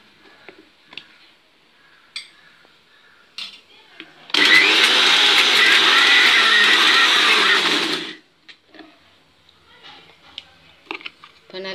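A mixer grinder pulses on peanuts, turning them into paste: a loud, steady whirring burst of about four seconds, between quieter clicks and handling sounds.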